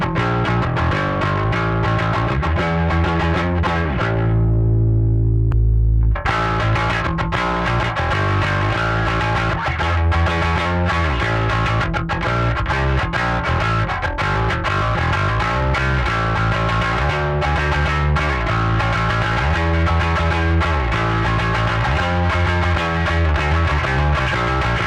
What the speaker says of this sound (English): you can turn an overdrive into a distortion pedal